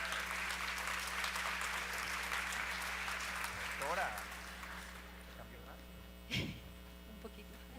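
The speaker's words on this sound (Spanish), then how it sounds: "Recibamos por favor con un fuerte aplauso" Applause from an audience at an academic talk on well-being, dense broadband clapping filling the first several seconds, then thinning out with a low steady hum beneath and a brief thump near the end.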